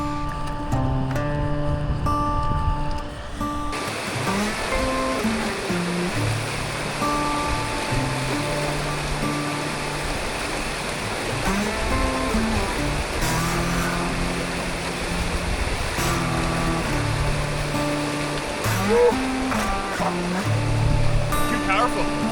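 A high-flowing river in Banff, swollen and bursting its banks, rushes with a loud continuous roar close by, with a person talking over it.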